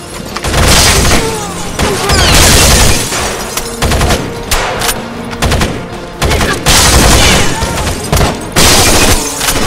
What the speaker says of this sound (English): We're gonna fire first!